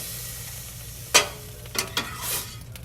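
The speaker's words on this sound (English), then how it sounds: "I'll mix this in gently, add some more broth" Butternut, sausage and pear risotto being stirred with added broth: a few distinct scraping stir strokes and soft wet clatters over a low steady simmer, close and moderately quiet, no talking.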